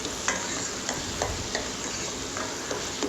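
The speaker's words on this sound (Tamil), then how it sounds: "நம்ம தக்காளியை நல்லா சிம்மில் வச்சு வதக்கிக்கலாம்" Tomatoes sautéing in a pan over low heat give a steady, close sizzle with faint scattered ticks of stirring, and no voices.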